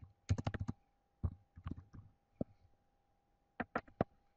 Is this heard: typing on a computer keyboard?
yes